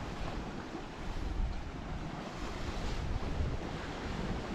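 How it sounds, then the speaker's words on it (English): A steady sea breeze blows in at the beach at Cala Millor, Mallorca, at dusk, with a constant broadband rush of wind and surf washing over the microphone throughout, with no voices. "There's really a little breeze coming in off the sea there"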